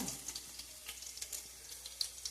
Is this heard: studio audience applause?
no